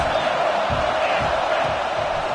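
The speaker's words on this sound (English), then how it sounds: "This crowd trying to make life miserable for this offense." Roaring stadium crowd at an OU vs Auburn college football game, a dense wash of loud cheering and yelling with rhythmic rumbling surges underneath, close and continuous.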